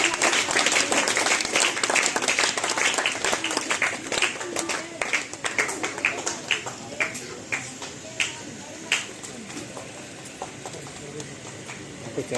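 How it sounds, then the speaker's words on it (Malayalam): Crowd applause at an Onam public meeting, loud dense clapping at first that thins into scattered claps, with speech mixed in. "നിറഞ്ഞ കയ്യടി."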